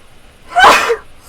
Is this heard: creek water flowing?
no